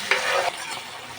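Onion, ginger-garlic paste and tomato sauce sizzle in a pan for chicken chili, with a bright frying hiss and a brief stirring scrape close by.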